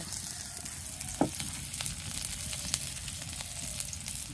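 Onions frying in hot oil in a village kitchen, a steady crackling sizzle with occasional sharper pops and a stirring scrape, close and continuous with no talking.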